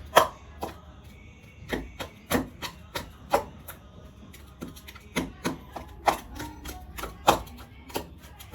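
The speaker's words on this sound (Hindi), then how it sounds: "लगता है चक्कू के साथ ही काटना पड़ेगा" A knife chops sharply on a cutting board in irregular, close taps, a dozen or more strikes spread over several seconds.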